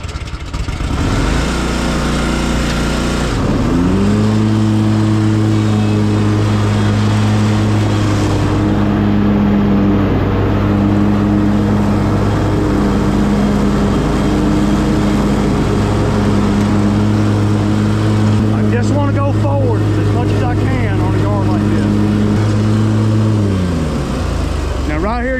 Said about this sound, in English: you're really taxing the mower because this shit's so thick